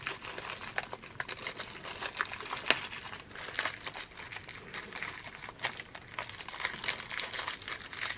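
A small plastic bag of rice is squeezed and pressed into a round shape by hand for a sock gnome craft, producing close, soft crinkling and crunching in a continuous irregular stream, with no speech.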